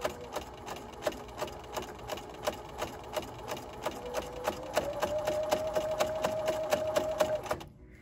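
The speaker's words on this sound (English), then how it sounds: "I'm back stitching for about 1 inch. So again, this is just a regular seam." A sewing machine runs a straight seam through a large piece of body pillow fabric, its needle thumping in a fast even rhythm, close and steady, speeding slightly before stopping abruptly.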